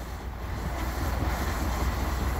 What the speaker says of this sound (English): the well is blowing out the top of our stand